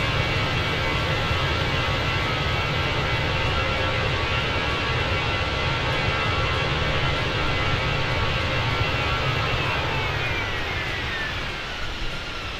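Airliner takeoff in Microsoft Flight Simulator at full throttle, a loud continuous broadband engine roar holding steady for the whole stretch, with a faint rising whine near the end and no voices.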